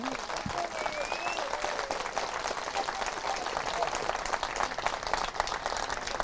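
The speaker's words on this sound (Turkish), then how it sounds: "Hadi kocaman bir alkış lütfen." Crowd applause at an outdoor Yörük Türkmen folk festival in Ahmetli village, steady dense clapping heard from a moderate distance with a faint high whistle early on.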